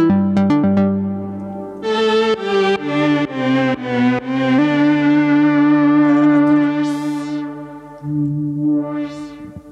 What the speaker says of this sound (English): next we've got my beloved Moog Sub 37 in all its glory.